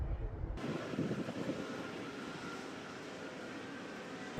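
Wind rushes across the microphone in a steady, rumbling low roar that fills the whole stretch.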